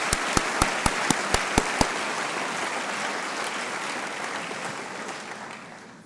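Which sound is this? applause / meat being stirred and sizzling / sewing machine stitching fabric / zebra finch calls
applause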